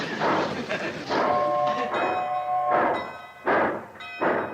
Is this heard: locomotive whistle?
yes